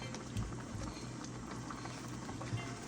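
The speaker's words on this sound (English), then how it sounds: "Just gonna go ahead and make this simmer for a second." Red snapper in coconut milk simmering in a pot, giving a steady low bubbling and soft patter that runs evenly throughout, close and moderately quiet, with no talk.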